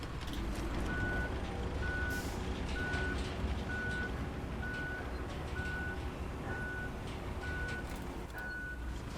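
A dump truck reverses on a pipe-laying job site with a dozer working nearby. A steady reversing alarm beeps regularly throughout, about ten beeps, over a loud continuous diesel engine rumble.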